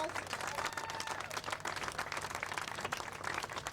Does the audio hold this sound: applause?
yes